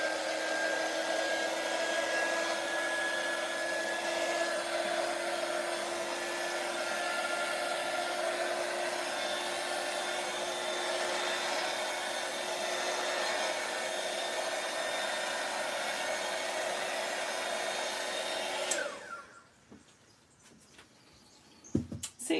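A hair dryer blowing air over freshly poured resin in moulds, a loud, steady close-up whoosh with a faint whine that runs unbroken for about nineteen seconds before cutting off abruptly, leaving quiet room sound.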